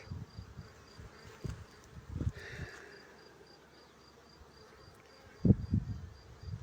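Steady insect buzzing fills the background, a low hum of many honeybees near the hives, with a few louder thumps and rustles.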